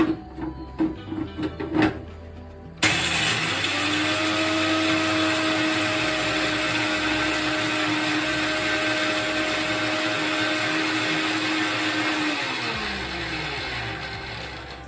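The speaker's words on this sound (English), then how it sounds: "just add roasted gram to your mixing and just blend it to a smooth powder" Roasted gram being ground into smooth powder in an electric mixer jar: a few short pulses, then a loud, steady whirring grind held for about ten seconds before winding down.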